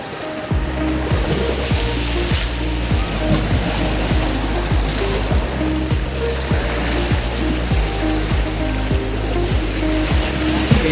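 Sea waves roll and break continuously on Pondicherry beach, a loud, steady wash of surf with a low rumbling undertone and no clear pauses.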